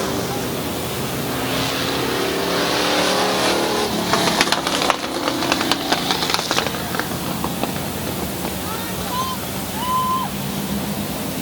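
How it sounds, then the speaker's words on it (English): Race cars roar around the dirt oval at Midvale Speedway, a broad loud engine wash swelling as the pack passes, with an announcer talking over it. "And the J09 is Jana Kane from Strasburg in her first ever race here at Midvale Speedway."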